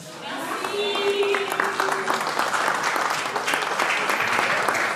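Loud, sustained applause from a crowd at a festive evening celebration honoring a president, dense clapping continuing steadily throughout with some voices mixed in.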